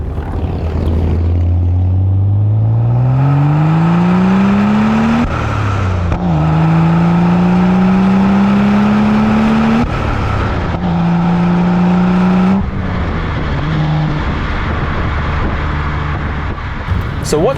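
BMW E82 135i with full bolt-on modifications revs hard and accelerates through several gears, a loud close engine rising in pitch, dropping at each shift, then climbing again, with people talking over it.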